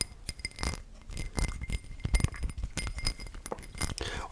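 A glass of water clinks repeatedly in close-up, with light taps and rattles coming in irregular bursts.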